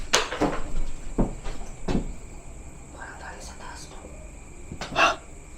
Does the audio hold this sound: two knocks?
yes